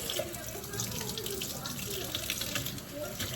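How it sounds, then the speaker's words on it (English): Tap water runs steadily into a kitchen sink while a lump of homemade butter is rinsed and squeezed under it, a continuous close splashing flow with no talk. "Take the butter out of your bowl and rinse it."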